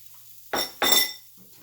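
Beaten eggs poured into a pan of melted butter for a ham and cheese omelette give two quick bursts of splashing sizzle, the second longer, then a faint scrape after.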